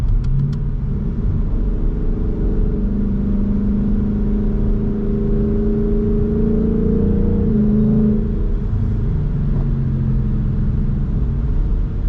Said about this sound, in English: Get a couple downshifts.